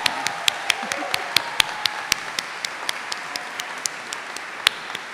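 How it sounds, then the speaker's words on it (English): An audience claps at a medical school white coat ceremony, a moderate, even patter of many hands with sharp individual claps standing out, fairly close and continuous, no voices over it. "let's give them one last big round of applause"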